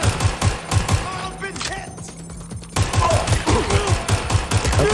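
Rapid bursts of automatic gunfire from a firefight in the video game Watch Dogs: Legion, loud and close, crackling steadily, breaking off for about a second before resuming in dense volleys.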